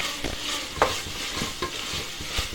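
Onions and tomatoes sautéing in a pan for tomato rice, with a near, steady sizzle broken by repeated scraping strokes of a spoon as the mixture is stirred.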